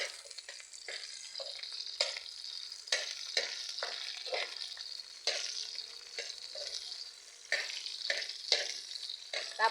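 Onions frying in a pan while cooking corned beef, a steady close sizzle with repeated scraping stir strokes coming in rhythmic bursts, no voices.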